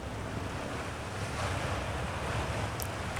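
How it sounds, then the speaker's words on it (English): Steady broadband rush of water echoing inside a cave in the video game Outer Wilds, a continuous wash like distant surf or wind with no voices over it. "You can hear water somewhere."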